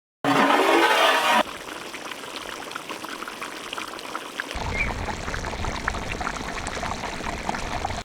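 Water poured from a vessel onto pork roasting in oil with rock salt: a brief loud gushing splash at the start, then a quieter bubbling, sizzling simmer that swells slightly toward the end, no voices.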